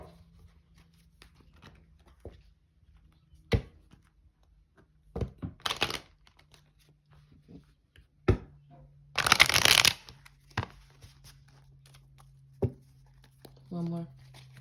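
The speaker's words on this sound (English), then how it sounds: "I'll shuffle for the 1 more." Tarot cards being shuffled at a table, heard as several separate bursts of riffling and flicking, the loudest a dense flurry midway, with soft taps and thumps between and a low steady hum beneath.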